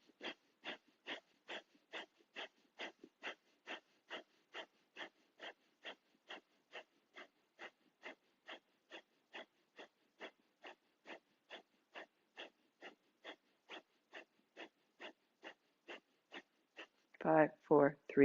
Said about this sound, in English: And then breath of fire, 30 seconds.